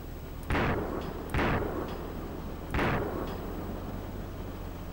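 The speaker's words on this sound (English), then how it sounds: "That's M16 fire to the south of us." M16 rifle fire in a video game, heard at a distance: three separate cracking shots a second or so apart, each with a short echoing tail, above a steady background hum. No talk.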